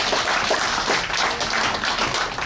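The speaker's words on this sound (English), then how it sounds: "round of applause for all of our Korean vets" Cruise passengers applaud Korean War veterans, a dense continuous clapping from a crowd, fairly loud and sustained.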